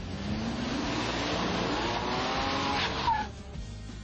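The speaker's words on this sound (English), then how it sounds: "Now, the four-wheel drive Ford Ranger." Four-wheel drive Ford Ranger pickup in a traction test, its engine droning steadily with tires squealing and skidding, close and loud, before the noise drops away near the end.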